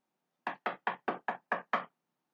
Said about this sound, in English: you keep hearing this knocking on your door